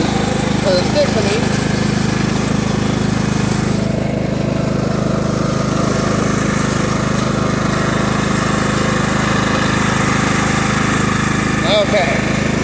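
Cub Cadet HDS 2135 riding mower engine running steadily nearby, a loud continuous drone that holds even throughout with faint talk over it.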